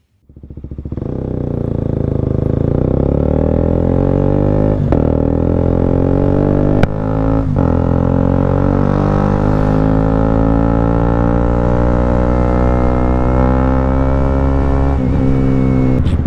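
A motorcycle engine starts up and runs steadily in town, a loud, close, continuous harmonic drone with a few brief clicks and shifts in pitch, no talk.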